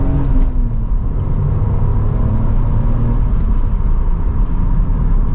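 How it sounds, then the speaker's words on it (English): A 1999 BMW M Coupe engine drones steadily while driving, a loud, close and continuous rumble with a slight rise in revs, no voices over it. "It's got that classic BMW sound to it."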